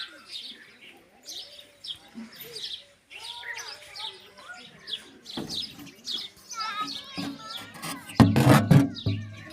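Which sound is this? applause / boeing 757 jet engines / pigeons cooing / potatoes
pigeons cooing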